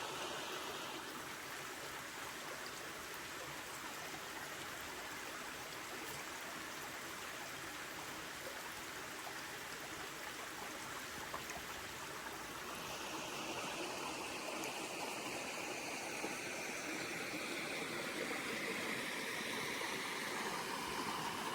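A steady rush of flowing water fills the scene, a continuous gentle roar like a stream with a waterfall not far off, on a cold forest hiking trail.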